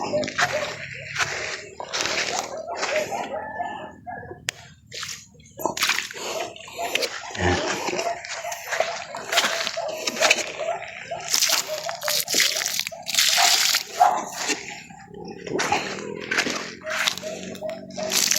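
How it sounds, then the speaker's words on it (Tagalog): Repeated splashes and sloshes of water poured onto the ground around vegetable plants, coming in irregular bursts at close range, with occasional faint voices. "Bawat puno ay lagyan natin ng tubig."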